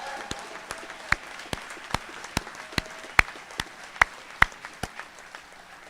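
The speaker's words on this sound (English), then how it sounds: "Let's give them a well-deserved round of applause for everything they've accomplished." Sparse, separate hand claps ring out in a steady scatter across a lineman college graduation ceremony, a modest round of applause from a small crowd with no talk over it.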